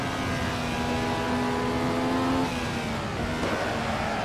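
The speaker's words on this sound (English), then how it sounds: "Thing revs pretty high. I'm at 10K right now." A Ferrari 312T Formula One engine screams at high revs in a racing game on an LA canyon road, a steady loud whine that holds, dips briefly, then climbs again.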